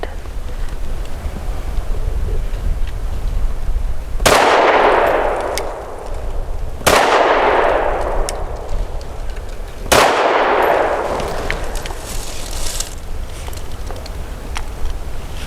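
Three sharp pistol shots from a Mossberg MC2sc firing Callaway 135 grain hollow points, spaced a few seconds apart outdoors, each a loud crack with a ringing decay over wind noise.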